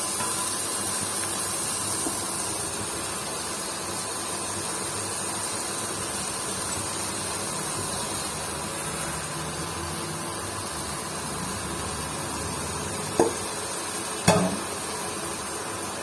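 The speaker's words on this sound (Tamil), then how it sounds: "நம்ம இப்போ இந்த நறுக்கி வச்ச அந்த சேப்பக்கிழங்கு இலைய போட்டுடலாம்" Steady sizzling and hissing of chopped taro leaves frying in a pan, continuous and close, with a couple of brief clinks near the end.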